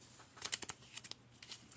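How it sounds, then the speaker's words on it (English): A deck of playing cards is shuffled close up in a quick burst of papery riffles and flicks, a series of short rustling snaps over about two seconds. "shuffle,"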